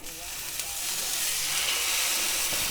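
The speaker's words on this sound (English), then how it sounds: "Sear the fat." Steak fat searing in a hot pan gives a steady, close sizzle that swells a little louder and stays constant, with no talking.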